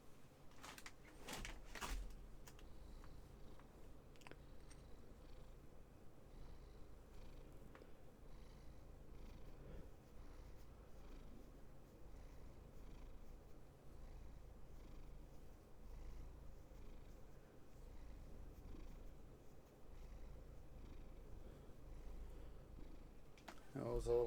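An old white male cat purrs while being petted, a soft, steady, low rumble that stays close and continuous throughout, with a few brief handling rustles at the start and end.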